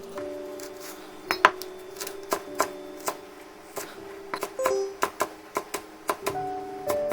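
A knife chops halved green onion with the core removed into half-centimetre pieces on a cutting board for kkanpunggi, giving crisp, separate taps at an uneven pace, close and clear over quiet tonal background sound.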